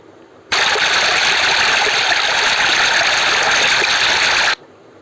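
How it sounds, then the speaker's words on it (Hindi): Water flows in a steady, even rush that starts abruptly, holds loud and unbroken for about four seconds, then cuts off, with no voices over it. "ये है पानी, और पानी की आवाज़ कैसे आती है? कल कल कल कल"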